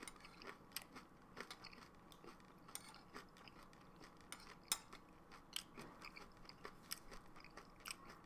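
Crunchy Morning Summit cereal with bran flakes, granola clusters and nuts being chewed up close, with a steady run of soft crunches and bites and no talking.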